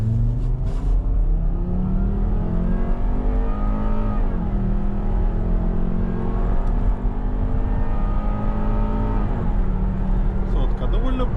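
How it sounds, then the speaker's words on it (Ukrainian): A used automatic-transmission car's engine runs and revs, rising and falling in pitch a few times, steady and fairly loud, while people talk over it. "Зараз будемо пробувати, як вона стартує, давай."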